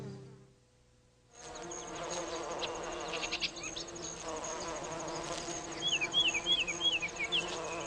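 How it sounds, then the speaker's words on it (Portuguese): Solitary bees buzz in a garden, with close, continuous insect humming and a few wavering passes rising and falling in pitch, heard alone without speech. "E, quando adultas, essas abelhas solitárias viram polinizadores eficientes"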